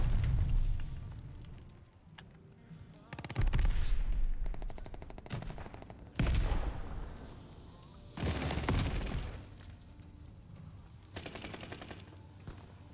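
Repeated bursts of machine-gun fire in a multiplayer shooter match, loud volleys separated by short lulls, with occasional booming impacts and no talk.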